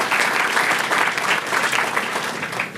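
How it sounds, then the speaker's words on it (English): Audience at a university residence hall groundbreaking ceremony applauds, a loud, even burst of many hands clapping that holds steady throughout and tapers slightly at the end. "Please join me in giving them one more round of applause."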